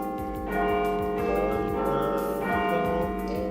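A ringing doorbell chime plays a slow, bell-like Big Ben melody of several tones, clear and sustained, with no talking.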